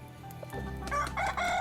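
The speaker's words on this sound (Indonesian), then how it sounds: "pas tu ayam bekokok" A rooster crows once, a loud close cock-a-doodle-doo call rising and wavering over a second and a half, with no voices around it.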